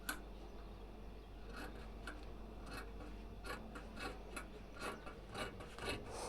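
Scissors cutting fabric along a marked curved line for a bubu-style garment, quiet close snipping and rasping strokes repeating in an uneven rhythm with no talk.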